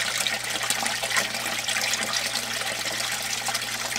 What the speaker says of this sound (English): the water's starting to come over the standpipe, and it's gonna take a second. And it's gonna start shooting out.